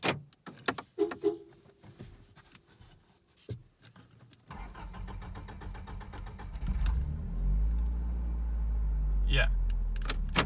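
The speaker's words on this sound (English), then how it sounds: "my car takes a bit to crank because I have a problem on my check valve" A Toyota Altezza engine with a faulty fuel check valve cranks over slowly for a few seconds before catching and settling into a steady idle, preceded by clicks and shuffling handling noises.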